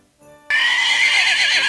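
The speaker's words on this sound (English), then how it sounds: "Hubert Horse loves to pull the sleigh." A horse gives a loud, clear whinny while pulling a sleigh over snowy fields, one sustained neigh sliding downward in pitch, preceded by a faint lead-in.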